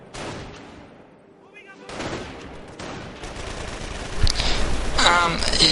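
Rifle fire from a WWII real-time strategy game match, scattered shots and crackling volleys building toward the end, mixed with battle noise and a commentator talking over it.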